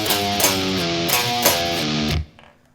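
A distorted electric guitar plays a variation of a bridge riff, chugging palm-muted notes with slides, loud and close, cutting off abruptly at the end.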